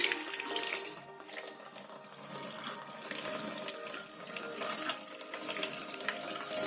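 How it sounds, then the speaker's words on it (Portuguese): Spring water from a mine source on a farm runs in a steady, continuous rush, with a broad bright hiss that stays fairly even and close throughout. "Isso aqui é água da mina, gente."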